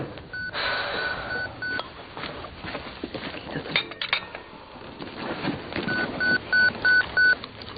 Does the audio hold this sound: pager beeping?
yes